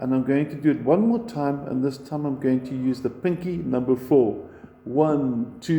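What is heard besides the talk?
None of the usual background noises is heard.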